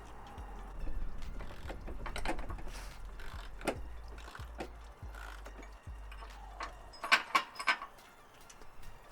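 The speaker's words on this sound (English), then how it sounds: "I'm just going to now take off the bolt up higher up," A bolt is worked loose on a Jeep Wrangler JK rear bumper: quiet metallic ratcheting clicks and tool rattles in short bursts, with a low rumble underneath and a cluster of sharper clinks near the end.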